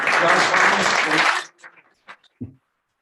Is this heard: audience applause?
yes